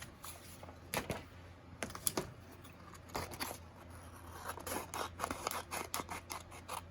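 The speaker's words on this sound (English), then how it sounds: "Cut them out real quick just with scissors" Scissors snipping through paper pieces for a miniature house craft project, a string of sharp close cuts in uneven bursts, with soft rustling of paper between snips and no talking.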